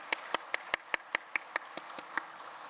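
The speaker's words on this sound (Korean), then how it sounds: "큰 박수로 축복해 주시기 바랍니다" Clapping at a church worship service: about a dozen sharp, evenly spaced claps in a quick steady rhythm, fairly close and clear, getting a little softer toward the end.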